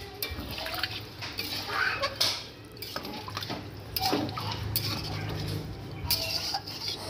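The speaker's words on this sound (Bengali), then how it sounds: "পরিমাণ মতো জল দিয়ে দেবো।" Water is poured into a pot of browned chicken curry cooking in a village kitchen, a soft splashing and liquid trickle with light clinks of the pot, fairly quiet and close.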